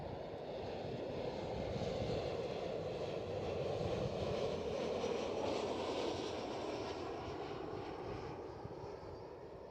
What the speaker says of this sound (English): Next one up, KLM Cityhopper